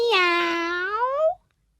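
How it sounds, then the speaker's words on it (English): A single cat meows once, a clear drawn-out cry rising at the end, close and alone, followed by silence. ""meow" to the children all day"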